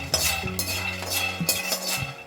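Peanuts being dry-roasted and stirred in a pan for poorna kozhukattai, with a utensil scraping and clinking against the metal in steady, close strokes and no talk.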